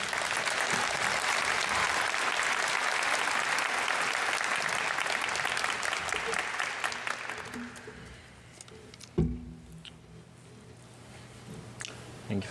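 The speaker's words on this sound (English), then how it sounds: "let's give a big round of applause to Ian Ananda." Audience applause at the 2022 Grenfell Campus convocation of Memorial University, a full hall clapping steadily for about eight seconds before fading out, followed by quiet room sounds and a single thump.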